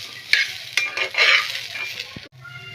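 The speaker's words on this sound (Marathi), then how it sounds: "त्याच्यामध्ये तेल न घालता आपल्याला हे वाटाणे भाजून घ्यायचे आहेत" Green peas dry-roasted in a pan without oil, spoon scraping and knocking against the pan with rattling peas and a soft hiss, close and fairly loud, briefly dropping away near the end.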